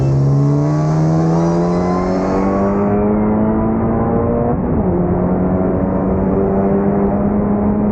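A powerful turbocharged fourth-generation EA888 car engine revs hard and steadily, its pitch climbing continuously, with a high turbo-like whine in the first few seconds.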